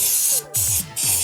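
Aerosol cleaner sprayed onto a scooter's kicker mechanism parts, running low: three short, loud, close hissing bursts separated by brief pauses.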